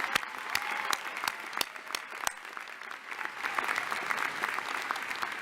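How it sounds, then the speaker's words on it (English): Steady applause from a law school convocation audience honoring three student speakers, dense clapping with a few sharp nearby claps standing out, sustained at an even level throughout. "please join me in a round of applause for all 3 of our student speakers"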